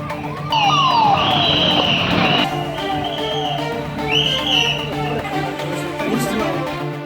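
An ambulance siren wails loud and close during an emergency road transfer of an infant heart patient from Trichy to Coimbatore. Rising and falling electronic tones sweep over the engine and traffic noise.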